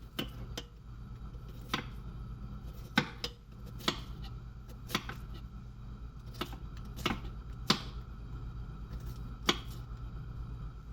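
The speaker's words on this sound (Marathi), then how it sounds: "मी मोठ्या सुरीने कापते." Onion being chopped with a large knife on a board, sharp irregular knife strikes spaced about a second apart over a low steady background hum.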